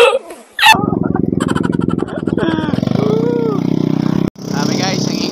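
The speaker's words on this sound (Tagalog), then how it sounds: "ang ingay ng motor namin" A motorcycle with its exhaust muffler removed idles and revs loudly with a harsh, rapid pulsing drone close by, briefly cutting out before picking up again while people talk over it.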